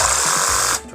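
Craftsman V20 cordless drill motor running briefly, a loud dense whir with wavering speed that winds down near the end.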